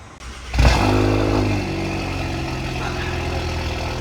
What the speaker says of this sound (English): The first start in here when he revs it? Turn on. Cold start.